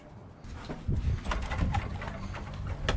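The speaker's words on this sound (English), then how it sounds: "Fucking hell, it's bright up here. Holy shit. Pigeon." Pigeons cooing inside a bright upper floor of an abandoned mill, several soft throaty coos repeating close by over faint room noise.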